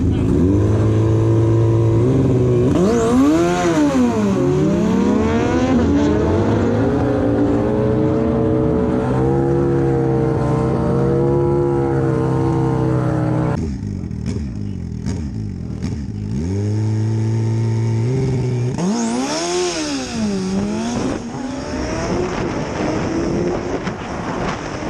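Turbocharged Suzuki Hayabusa motorcycle on a drag race pass, engine screaming loud and near through rising gear shifts, with a break in the pull before another hard acceleration sweep.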